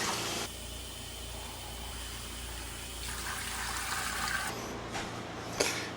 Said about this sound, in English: I have to put 3 quarts of water in here.